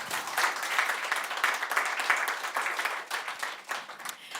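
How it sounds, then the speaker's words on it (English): A conference-room audience claps steadily with a dense, moderately distant patter of hands that gradually thins toward the end, with no talking over it. "A round of applause, please."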